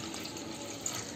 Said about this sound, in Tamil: நம்ம இப்போ வந்து பாதி புளி தண்ணி ஊற்றலாம்.